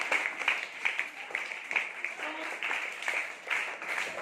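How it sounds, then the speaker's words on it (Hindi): Applause from a classroom group, steady clapping throughout with some voices mixed in, moderately loud. "और नीलमा को तालियां मिलेगी।"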